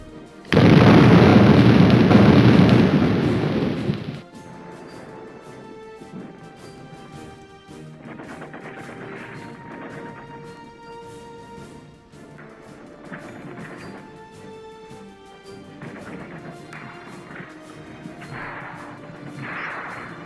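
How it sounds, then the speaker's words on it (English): Bombs exploding in the video game Desert War: one huge, loud crashing blast that roars for several seconds, then fades into a quieter stretch with distant rumbles and scattered smaller impacts. "I'll try not to talk when bombs are coming through"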